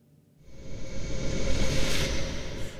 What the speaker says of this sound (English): So the first one we have here is a nice little whoosh from UVI's whoosh effects.